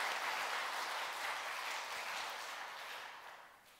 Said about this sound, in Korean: 우리 박수로 함께 다시 하나님께 영광 올려드리겠습니다